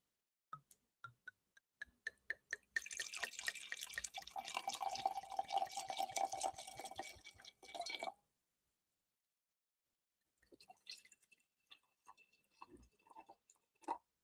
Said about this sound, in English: here we go with the first pour